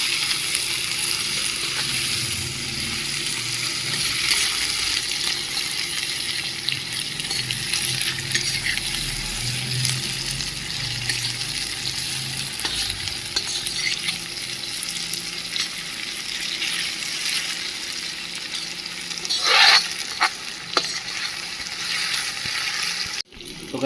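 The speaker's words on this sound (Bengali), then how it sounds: "পেঁয়াজটা অনেকটাই প্রায় ভাজা হয়ে গেছে" Chopped onions fry in a pan while cooking at a night picnic, a steady close sizzle with occasional stirring scrapes and a brief metallic clink near the end.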